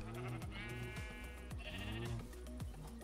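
Sheep in Minecraft (1.12.2 modded) bleat repeatedly in a rhythmic series of wavering calls, clear and fairly close, with no talk.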